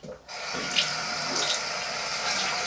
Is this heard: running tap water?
yes